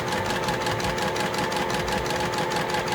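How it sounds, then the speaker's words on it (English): A sewing machine runs continuously, stitching quilt block pieces together with a fast, even mechanical whirring and tapping, close and steady throughout with no talk. "I'm gonna sew these together, and then we'll come back and I'll show you the last little piece."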